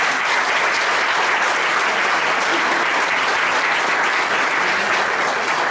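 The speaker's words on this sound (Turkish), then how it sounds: "Türkmen'e de kocaman bir alkış istiyorum sizden." A large theatre audience gives a loud, sustained, dense round of applause for the mayor, an even wash of clapping that holds at full strength for the whole stretch.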